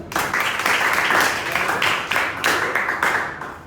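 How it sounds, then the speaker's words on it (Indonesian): A classroom of students applauds a classmate after a discussion, a lively burst of many hands clapping nearby, with uneven surges and slight rhythmic pulses over a few seconds. "tepuk tangan buat Ayu"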